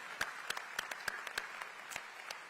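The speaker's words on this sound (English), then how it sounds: "Let's give them a big round of applause, because this is spectacular." A few people clapping in a sparse, fairly regular rhythm at a county address, distinct individual claps rather than a full crowd, soft and somewhat distant.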